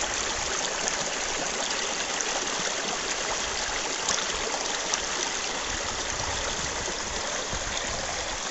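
A stream in the Dominican countryside near La Vega flows steadily, a dense continuous rush of running water close by with no breaks and no voices.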